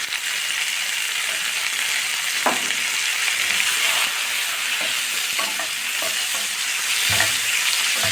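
Tomatoes and green peas sautéing in a pan, a loud steady sizzle and hiss with occasional scraping and stirring taps from a spoon.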